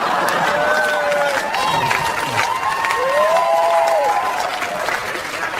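A comedy club audience applauds steadily and loudly, with scattered whoops and voices mixed into the clapping.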